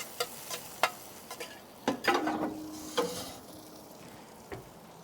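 Browned zucchini slices shoved with a utensil into a pile in a hot, sizzling pan: a steady fry hiss under a handful of close scrapes and clacks against the metal, with no talking.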